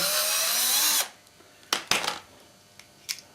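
A power screwdriver whirs loudly for about a second while taking out the carbon brush screws on a Beko WMA520W washing machine motor. A few short clicks and taps of handling follow. No one speaks.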